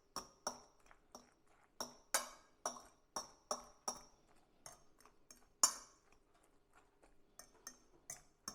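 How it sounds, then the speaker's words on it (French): A utensil mixes surimi batter for a high-protein patty in a bowl, giving a series of sharp metallic clinks against the bowl, roughly one every half second, irregular and close, with no talking. "Et on mélange."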